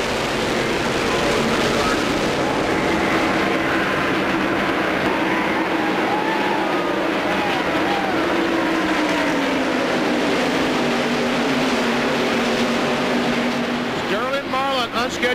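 A pack of NASCAR stock cars accelerating at the 1997 Brickyard 400, heard as a dense, continuous engine roar with rising tones that swells and rumbles through the whole stretch.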